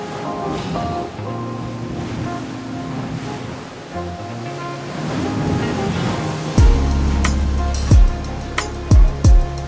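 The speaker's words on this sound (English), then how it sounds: "The Atlantic is rough." Rough Atlantic Ocean waves pound the steep, rocky coast of La Palma in a continuous roar of surf. Wind gusts buffet loudly in heavy bursts toward the end.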